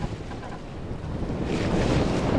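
Sailboat Mingming II beating into a heavy southwesterly headwind under six panels of sail, with a steady roar of wind and sea rising slightly in loudness, rushing water and buffeting close to the microphone.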